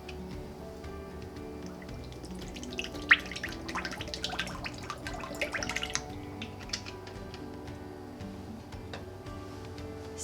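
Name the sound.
diffuser base poured into glass pitcher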